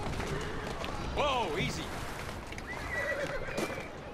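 A horse pulling a carriage through the streets in Assassin's Creed Syndicate lets out a loud, close whinny over steady hoof clip-clop and rolling wheels, with a second fainter neigh later and a voice talking over the game.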